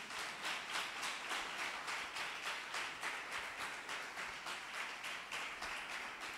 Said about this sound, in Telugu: దేవుడు మీకు మంచి వాక్యం ఇస్తే దేవుని గట్టిగా చప్పట్లు కొట్టండి